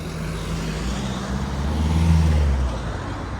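A pickup truck and cars pass along a road near Exmouth, a close, loud rumble of tyres and engines that swells to a peak midway and then eases off, with no voices.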